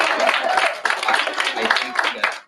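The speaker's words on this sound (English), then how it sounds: "I also want to give one more round of applause to Shannon" An audience at an outdoor local author day event in the park claps for Shannon, a dense round of applause with a few sharper bursts that fades out at the end.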